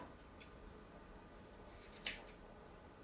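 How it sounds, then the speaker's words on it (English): Scissors make one sharp snip through string loops on a Valentine mantel decor craft, a single crisp cut near the end against a quiet room background. "Now you hold on to those strings and we're going to cut our loops."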